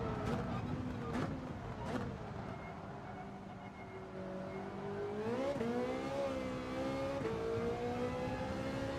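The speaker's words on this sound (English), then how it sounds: "Very high pitch, very high rev in V8." A Ferrari V8 engine in the video game Gran Turismo 7 drones steadily, then rises in pitch as it revs higher, a smooth high-revving note that holds throughout.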